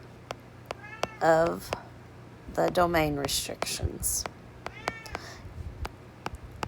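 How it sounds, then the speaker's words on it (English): A house cat meows several times, clear and close, with a couple of drawn-out cries between them, while a person speaks quietly during a math lesson. "Yes, that is my cat"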